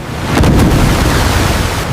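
Ocean waves wash around a small stalled boat with heavy wind buffeting close on the microphone, a loud broadband rush with a brief stronger surge early on.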